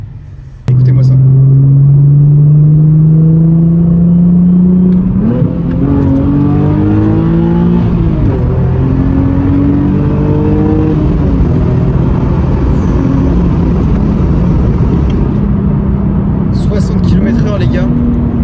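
A 2012 Nissan 370Z engine revs hard, loud and close, its deep growl climbing and falling in pitch through several pulls over a sustained roar.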